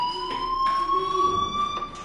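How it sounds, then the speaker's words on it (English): A fire alarm rings with a steady, piercing electronic tone, pulsing in short bursts at a moderate distance with no talking over it. "do you hear that fire alarm? That means you should be outside."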